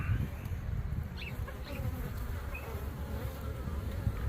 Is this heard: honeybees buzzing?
yes